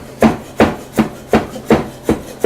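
Knife chopping beef tongue for tacos on a board, seven firm, evenly spaced chops at a steady rhythm, close and clear with no talk.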